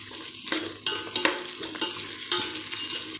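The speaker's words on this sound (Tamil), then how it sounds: "வெங்காயம் நல்லா ஃப்ரை ஆகட்டும்." Sliced onions and green chillies frying in a pan for egg biryani give a steady sizzle, broken by a few scraping stirs of a spatula against the pan.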